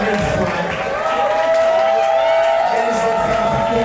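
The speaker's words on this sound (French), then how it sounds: "J'aimerais qu'on les félicite, qu'on les applaudisse encore une fois." A dense crowd claps and cheers for the finalists at a drag competition's royal finale, steady and loud throughout, with voices shouting in the mix.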